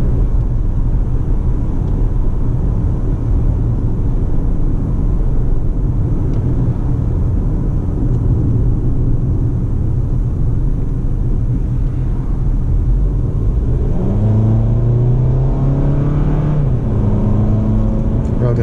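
A 2019 Toyota RAV4 XLE AWD cruises along a curvy road, its steady low engine and road rumble droning throughout from inside the cabin, with a brief rise in engine tone near the end.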